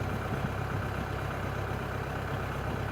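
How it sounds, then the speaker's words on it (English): A tractor engine runs steadily at a low, rumbling idle, close and continuous with no talk over it. "back on the tractor"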